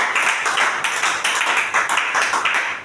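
A church congregation applauds during a worship service, with dense, sustained clapping from many hands that stays loud and continuous throughout, with no voices standing out.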